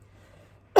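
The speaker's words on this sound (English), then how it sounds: "still got a really dry throat, so heads up for my coughs" A single sharp cough from someone with a dry throat, loud and close, bursting out at the very end after near silence.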